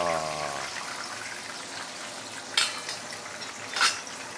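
Fish with crispy skin sizzling in a hot frying pan at home, a steady soft crackle that runs throughout, broken by two sharper bursts of spatter, with no talking.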